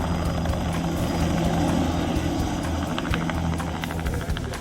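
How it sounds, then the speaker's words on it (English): A plane on its final descent drones steadily with a dense engine and propeller roar throughout, loud and close, fading slightly toward the end. "As the plane makes its final descent"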